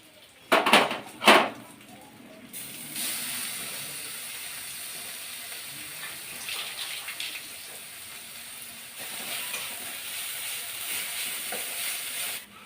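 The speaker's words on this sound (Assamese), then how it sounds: "এতিয়া আদা নহৰুখিনিও ভাজি লোৱা হৈ গ'ল।" Ginger and garlic fry with onions, bay leaf and five-spice in hot oil: a couple of loud utensil clatters open, then a steady close sizzle continues alone.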